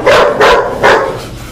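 A hound dog barks three times in a steady rhythm, loud and close, each bark a sharp burst with a brief trailing whimper, and no talk over it.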